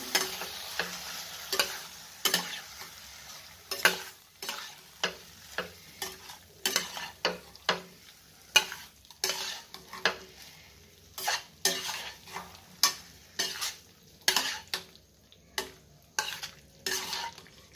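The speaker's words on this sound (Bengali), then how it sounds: "আর ফেটানো দই, আর একটু ধুয়ে জলটাও দিয়ে ভালো করে নাড়াচাড়া করে দেবো।" Potato and ripe banana curry with whisked yogurt and water being stirred in a pot: a steady series of quick scraping utensil strokes, roughly one per second, over a faint simmer, close and fairly quiet with no voices.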